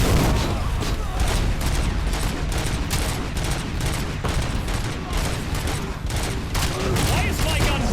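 Burst-fire gunshots ring out in the Robocop: Rogue City video game, a dense, rapid string of loud cracks in clustered volleys that runs for several seconds without a pause.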